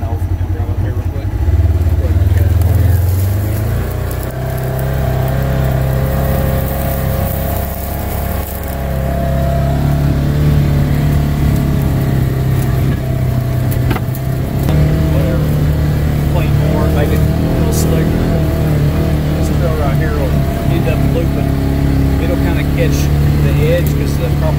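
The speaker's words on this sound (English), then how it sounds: "We're gonna drive up here real quick." A vehicle engine drives up a trail over wooded ridges in Southern Illinois, a loud, close, steady drone holding for about twenty-five seconds with a brief dip partway through.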